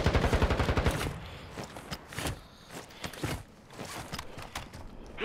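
Automatic gunfire in the Call of Duty: Modern Warfare II video game, a rapid loud burst of shots at the start followed by scattered distant single shots and thuds, with no talking.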